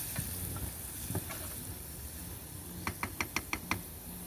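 Onions sizzling in butter in a pan, a quiet steady fry with soft crackles and a quick run of sharp pops and taps near the end, close up with no talking.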